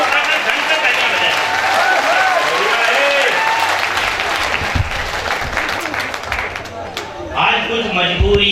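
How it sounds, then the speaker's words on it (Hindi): An audience at a Hindi comic poetry gathering claps loudly and continuously, a dense crowd of hands filling the hall, tapering slightly before a voice cuts in near the end. "एक बार दोनों हाथ नीचे उठाकर ढंग से तालियां बजाएं"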